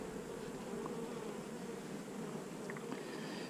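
Dense, steady buzzing of many honeybees at an open beehive, a close continuous drone with a few individual bees whining past near the end.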